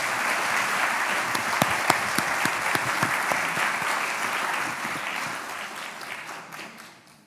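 Audience at a monthly garden club meeting applauds in a dense, sustained round of clapping with a few sharp individual claps standing out, slowly fading near the end.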